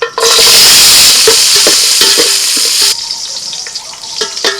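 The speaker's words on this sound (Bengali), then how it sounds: "সাদা তেল দিয়ে দিয়েছিলাম কাজু আর কিশমিশটা একটু ভেজে নেব" Cashews and raisins fry in hot white oil, starting with a loud, sharp sizzle that eases partway through, broken by scraping and stirring clicks from a spoon.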